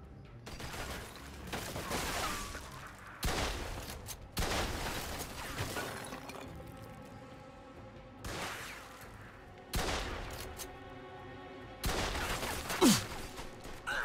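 Bursts of gunfire from enemies firing down from above in the video game Mafia II: Definitive Edition, several loud volleys of rapid shots separated by short pauses, with faint voices in the background.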